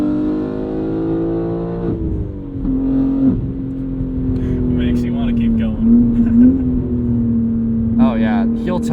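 A 2022 BMW M3 with a manual gearbox pulls hard through the gears, its engine droning loudly inside the cabin and dipping briefly at a shift, with a person talking over it.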